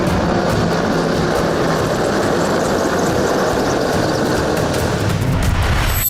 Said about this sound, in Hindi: सबसे पहले 4 रुद्र हेलीकॉप्टर